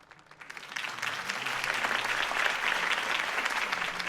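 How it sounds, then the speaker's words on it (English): Crowd applause swelling in a video game, Batman: The Telltale Series, as a city audience cheers a Harvey Dent campaign speech; dense steady clapping builds within the first second and holds loud to the end. "could have heard that applause"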